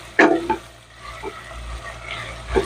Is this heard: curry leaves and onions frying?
yes